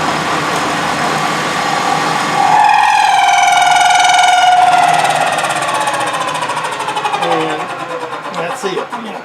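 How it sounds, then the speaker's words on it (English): A lathe milling out a deburring tool mount gives a loud, steady machining drone with a rising then falling whine as the cut progresses, easing into rougher chatter near the end. "I'm just milling this out far enough to cover me"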